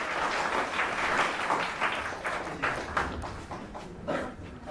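An audience at a school education event welcomes the city education bureau chief to the stage. Applause fills the hall as a dense, continuous wash of many hands clapping, fading a little toward the end.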